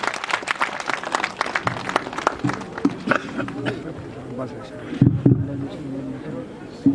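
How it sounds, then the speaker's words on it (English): Audience applause in a hall at a tribal festival event at a Kargil campus, welcoming Ladakh's Lieutenant Governor; dense clapping fades over several seconds while voices murmur, with a few louder bumps near the end. "Please join me in welcoming Sir with a thunderous applause."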